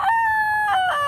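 A Kelso bloodline gamefowl rooster gives one short, loud crow close by, a bright, tonal call with a slight break near the end.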